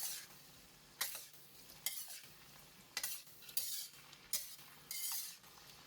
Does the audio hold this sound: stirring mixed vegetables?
yes